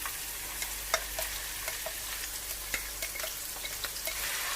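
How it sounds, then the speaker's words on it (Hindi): Onions frying in oil with cumin in a karahi, a steady close hiss of sizzling dotted with small crackles and the scrape of stirring. "थोड़ी सी प्याज फ्राई हो जाएगी"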